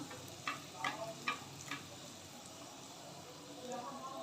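Stuffed kachoris made with raw jackfruit deep-fry in hot oil with a soft, steady sizzle. A few light taps and stirs sound early on, and the whole scene is quiet and somewhat distant.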